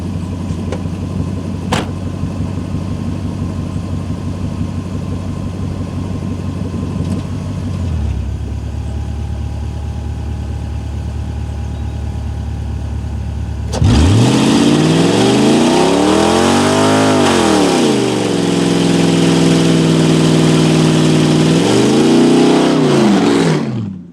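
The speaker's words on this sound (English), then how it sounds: "I'll do a little burnout here" Lexus LS400 engine idling steadily, then bursting into loud, sustained revving with rising and falling pitch sweeps during a burnout attempt, the roar dominating the last ten seconds.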